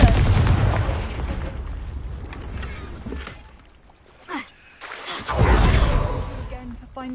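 Confringo fire spell explosions in the Hogwarts Legacy video game, a couple of booming bursts with crackling tails over a rumbling game soundscape, mid-loud, with bits of character speech in between.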